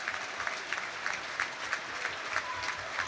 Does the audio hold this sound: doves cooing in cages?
no